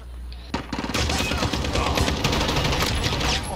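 A PKM machine gun fires in a video game, a loud continuous burst of rapid shots that starts abruptly and runs to the end.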